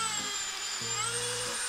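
Sandpaper rubbing a wood-turned piece spinning on a lathe, lightly taking the edge off sanding sealer; a steady high whirring hiss runs throughout, with low motor hum rising and falling beneath it.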